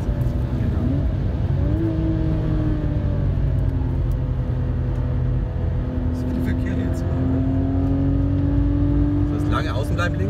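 A car accelerates hard on the Nürburgring Nordschleife, its steady engine drone climbing in pitch through gear changes, heard from inside the cabin and loud throughout.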